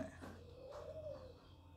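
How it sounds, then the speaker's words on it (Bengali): Pigeons cooing outdoors, perched on a roof and in a mango tree: a soft, rounded coo rising and falling once near the middle, moderately close over a faint steady background. "বাইরে যে বামে কবুতর উঠছে, আম গাছেও কবুতর উঠছে"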